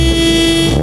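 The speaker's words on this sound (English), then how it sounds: "the hooter won't disappear when I start the car" Horn on a VW Polo Classic with a 1.8 liter four-cylinder engine blaring at startup, one steady loud tone held without a break and nothing else audible.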